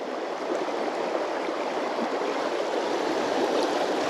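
The River Doon, running a little high, rushes steadily over stones in an even, close hiss of flowing water with no voices.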